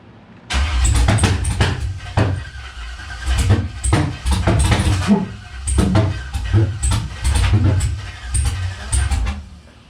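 An LS V8 cranks and turns over in bursts of starter whirring and rough chugging, repeated several times with brief pauses, loud and close, without catching into a steady idle; voices are heard faintly in places.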